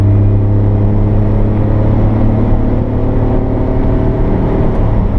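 A 1991 Honda Acty Street G kei mini van drives along under a steady, loud engine drone, with a low continuous rumble and road noise that hold constant throughout, and no talking.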